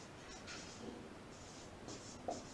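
A Sanskrit word being written, heard as a few faint, soft scratchy strokes in quick short bursts over quiet background hiss. No voices.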